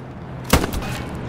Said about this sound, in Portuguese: Eu dei um tiro e ele me escutou